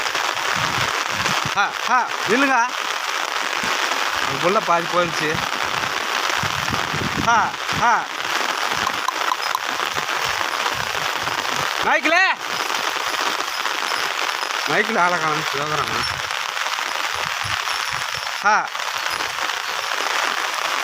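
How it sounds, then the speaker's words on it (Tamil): Heavy rain pours down outdoors as a constant, loud, dense hiss that lasts throughout, with people talking over the downpour now and then. "சரியான மழை."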